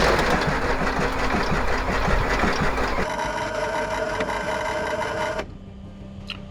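An old airplane engine abandoned for 20 years cranks without starting, a rapid rhythmic mechanical chugging that churns steadily, then shifts tone and winds down near the end, no speech.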